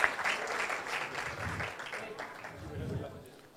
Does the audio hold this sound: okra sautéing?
no